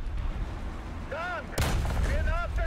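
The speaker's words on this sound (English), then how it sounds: "Is that a spike missile?" In a tank combat video game, a Spike missile strikes a tank with a sudden heavy blast midway through, preceded by whistling electronic tones and followed by lingering rumble, under quiet voice chatter.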